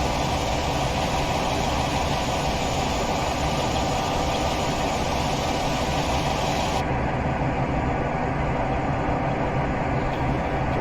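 Class 47 diesel locomotive engine working at full throttle in Train Simulator, a steady, loud, low rumbling drone that holds constant throughout with no talking.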